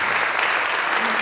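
Theatre audience at a staging of the play Ghasiram Kotwal breaks into brief, steady applause, a dense wash of many hands clapping close and loud.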